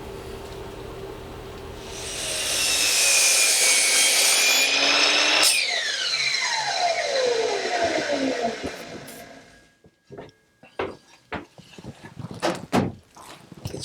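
A power saw cutting a wooden board in half for a wine rack: a rising whine as the blade bites into the wood for several seconds, then winding down, followed by scattered clatter and knocks of wood pieces.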